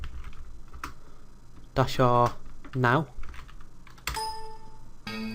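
Computer keyboard typing of a shutdown command for rebooting a Linux server: quick, close key clicks in short bursts, with someone speaking briefly between them.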